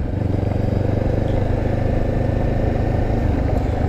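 A Honda CB500X motorcycle engine pulls back up from below 2,000 RPM at half throttle, a loud, steady low rumble with a fast pulsing beat and wind noise, heard close by the rider.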